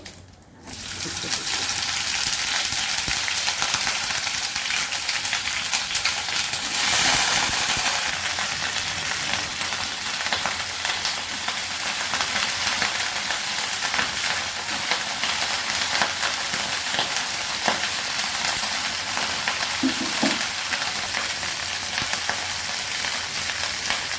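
Cumin seeds with a bay leaf and two dried red chillies tempering in hot oil for a cauliflower moong dal, a loud steady sizzle that hisses on without a break from start to finish.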